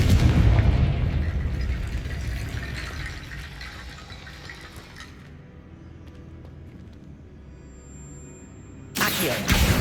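Confringo fire-spell blasts in the Hogwarts Legacy video game, a heavy rumbling boom that slowly decays into a low roar, followed by a sharp new burst at the end.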